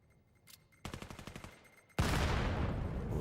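A grenade bursts in the VR shooter VAIL during a competitive match: a quick burst of sharp gunfire-like cracks, then a sudden loud, broad explosion at about two seconds that roars on undiminished to the end.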